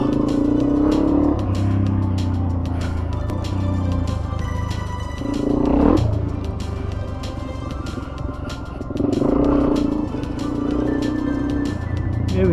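A Suzuki DRZ dirt bike rides a rough four-wheel-drive track, its engine droning steadily and loudly throughout, with revs swelling and dipping in waves as it picks over the terrain, heard up close with no voices.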